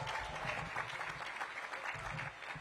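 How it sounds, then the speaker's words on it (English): Steady, rousing applause fills a university strategic plan launch in Washington, D.C., at moderate volume, with many hands clapping continuously and no talk over it. "I want to give Dr. Eddington a rousing applause."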